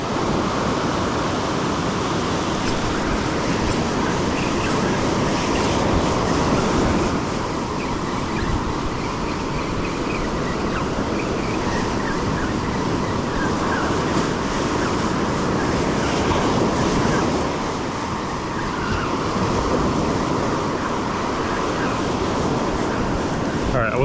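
Ocean surf breaks along a New Jersey beach in a continuous broadband wash, swelling and easing in slow surges, close and loud, with wind noise on the microphone.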